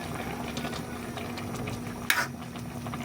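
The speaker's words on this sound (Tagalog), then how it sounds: "Pakuluin muna natin mga lods. Ayan. Kulo na mga lods." Water boils steadily in a cooking pot for salmon miso sinigang, giving a close, continuous bubbling rumble with a brief sharper splash near the end.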